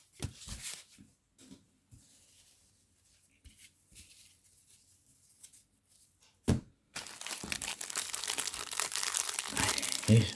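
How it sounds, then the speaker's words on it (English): Stale gum in a 1990 Topps baseball cello pack crunching and crinkling, a few sparse close crackles at first, then a sustained loud burst of wrapper crinkling and crunching near the end. "Oh! You hear that? That's the gum."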